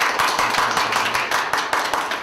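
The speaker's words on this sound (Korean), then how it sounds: "큰 박수 부탁드리겠습니다." A crowd at a Korean youth lecture contest award ceremony applauds, the claps dense and rhythmic and fading slightly in waves, with no voices over them.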